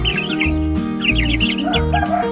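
Chicks peep and cluck inside a coop at night after a rainstorm, with quick high chirps scattered over a steady low hum nearby.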